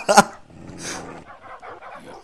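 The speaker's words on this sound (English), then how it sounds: "How are you gonna get rid of all these dogs?" Dogs in a video game bark and growl in short yappy bursts, with a sharp loud bark at the start followed by softer panting and grumbling, all close by, while a person talks over them.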